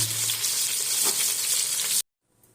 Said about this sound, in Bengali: সামান্য আলুগুলোকে ভেজে তুলে নেবেন